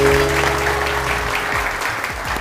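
Studio audience applause for a guest on a Pakistani TV morning show, a dense burst of clapping lasting the whole moment, steady and close with no talk over it.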